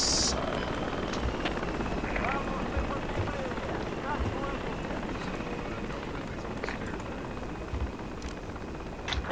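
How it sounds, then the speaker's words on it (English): An enemy helicopter in a military video game roars steadily overhead, a dense, continuous rotor-and-engine wash that fills the whole stretch with little change, with game noise mixed in. "Oh, that was enemy chopper."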